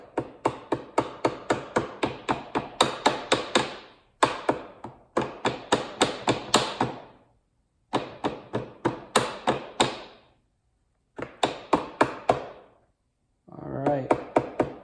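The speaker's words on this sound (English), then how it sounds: "I'm just going to very lightly tap this back until I see the threaded holes in the aluminum bracket line up underneath these two holes in this cross member" Rubber mallet lightly tapping an aluminum bracket into place under a cross member while fitting a tail rack on a Honda CRF450L, with rapid runs of crisp taps broken by short pauses.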